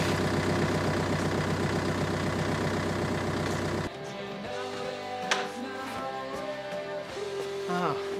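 A car with a faulty gearbox idles with a loud, steady, close engine rumble for about four seconds, then the sound cuts abruptly to a quieter scene with voices.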